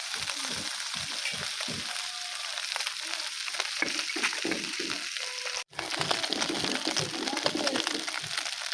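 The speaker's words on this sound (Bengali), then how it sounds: "দেখুন বন্ধুরা, একটু লাল করে ভেজে নেব" Small freshwater fish fry in a pan with a continuous loud sizzle and spitting, broken by a brief dropout midway, while soft cooing birds are audible in the background.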